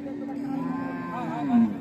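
A Sahiwal cow with her roughly fifteen-day-old calf at a livestock sale gives a drawn-out, fairly close moo that swells near the end, with faint background chatter.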